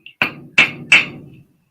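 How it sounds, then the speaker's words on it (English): Three sharp hammer blows pounding the ends of metal pieces flat on a plate, evenly spaced and close, each ringing briefly before fading, with a faint tap just before the first. "I'm just pounding the ends flat, which isn't exactly easy"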